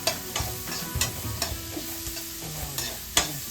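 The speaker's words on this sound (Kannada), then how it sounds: "ಚೆನ್ನಾಗಿ ಫ್ರೈ ಮಾಡ್ಕೊ" Onion and other pasta ingredients for a high-protein pasta fry in a pan at home, a steady close sizzle broken by repeated scraping stirs and a few sharp clinks of the spoon against the pan.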